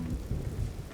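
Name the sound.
rain and thunder in Vintage Story video game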